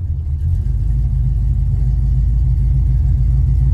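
A Chevrolet El Camino with a 383 stroker V8 rolls along with a deep, steady engine rumble heard close and loud from inside, no voices.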